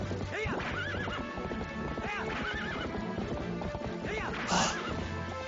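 A horse in the video game Twilight Princess whinnies repeatedly over steady clip-clop hoofbeats and busy game sounds, loud and continuous throughout.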